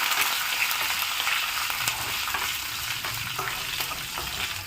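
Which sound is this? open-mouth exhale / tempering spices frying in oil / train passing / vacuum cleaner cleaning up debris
tempering spices frying in oil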